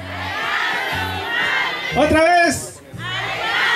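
Crowd at an outdoor political rally shouting a minister's name in unison, a loud swelling roar of many voices, with a single speaker's voice briefly heard over the noise.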